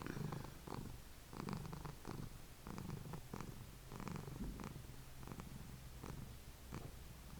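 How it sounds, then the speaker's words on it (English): A cat purrs close up in a soft rhythmic cycle, about six rumbling breaths rising and falling over several seconds, quiet and alone with no voices. "Would you like some ASMR purring? I've got it for you."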